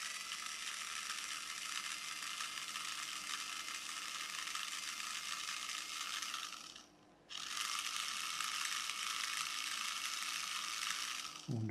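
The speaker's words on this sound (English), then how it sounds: "High-pitched whine's probably upsetting lots of young people." A Poundland Power Pod gives off a constant high-pitched electronic whine, faint but steady, with one brief dropout midway before it resumes unchanged.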